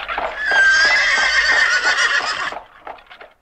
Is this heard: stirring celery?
no